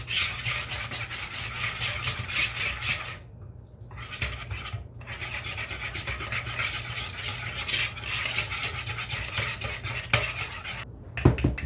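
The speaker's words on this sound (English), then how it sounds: "You can keep whisking if you prefer, but that whisk is kind of flimsy" Whisk scraping and clattering steadily against a bowl while pretzel dough mixture is mixed by hand, close and continuous with a couple of short pauses.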